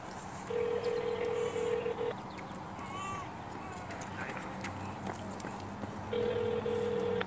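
An AT&T mobile phone placing a call outdoors, giving two bursts of steady electronic dialing tone at the start and end, close and clear over quiet street background.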